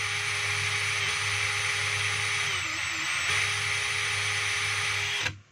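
A DeWalt DCD791 cordless drill with a faulty switch whines loudly and close up, its motor speed dipping and stuttering partway through instead of running smoothly, before it stops abruptly at the end.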